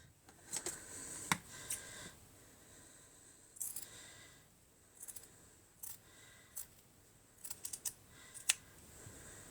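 Scissors snip through fabric in short, irregular bursts of crisp clicks and cuts, close and fairly quiet, with pauses between strokes while a headband is being cut out.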